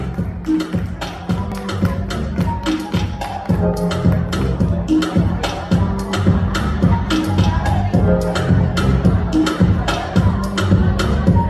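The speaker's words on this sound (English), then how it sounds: "Let's give her a round of applause" Audience at a Manila fashion runway show applauds a beauty queen, a long continuous wash of clapping with distinct sharp claps throughout, steady and fairly loud under a busy crowd murmur.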